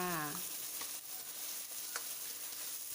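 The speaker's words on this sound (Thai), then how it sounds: "พอน้ำมันเริ่มร้อนก็ใส่กระเทียมพริกลงไปเลยค่ะ" Garlic and chili frying in hot oil for spicy squid basil stir-fry, a soft continuous sizzle with a few light spoon clicks, faint and close; a brief rising tone sounds at the very start.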